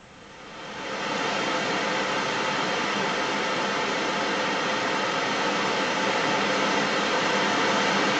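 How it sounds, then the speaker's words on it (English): Steady, even broadband pink noise from a studio monitor fades up in the first second, then holds constant and fairly loud with no talking over it. "We're going to turn it up so that we can hear the pink noise"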